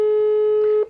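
A single long, steady phone ringback tone heard loud and alone while an outgoing call waits to be answered, cutting off near the end.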